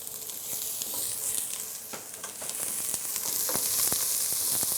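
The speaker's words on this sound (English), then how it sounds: "And again we are mixing until the onion has the same color like carrots and celery starch." Onion, carrots and celery fry in a pan, a steady close sizzle broken by repeated scraping and clinking as the vegetables are stirred and mixed.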